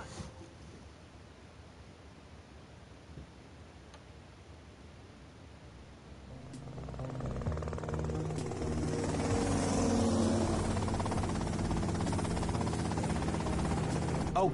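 A helicopter in the video game GTA Vice City builds from about six seconds in, a steady broadband rotor-and-engine roar that swells and holds loud after a quieter, faint opening.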